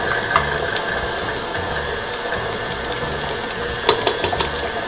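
A stand mixer works sticky ube coco bun dough, giving a steady mechanical whir and hum with a faint rhythmic thump and occasional light clicks and rattles, close and continuous with no talk.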